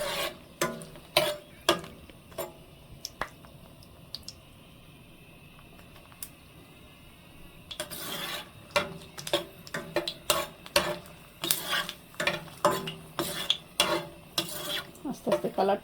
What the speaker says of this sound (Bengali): একটা সুন্দর কালার আসবে মরিচটার, ততক্ষণ পর্যন্ত আমি এটা ভেজে নেব